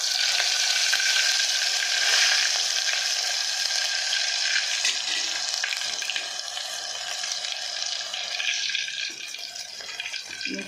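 Ginger garlic paste hits hot oil already holding mustard seeds, cumin, asafoetida and curry leaves, giving a loud, steady, hissing sizzle that continues throughout and eases slightly toward the end.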